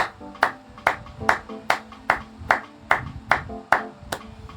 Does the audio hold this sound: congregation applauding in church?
yes